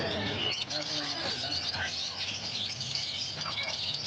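Caged birds chirping and tweeting at a pet bird market in Bocaue, a dense, busy chatter of small calls close by, with people talking over it throughout.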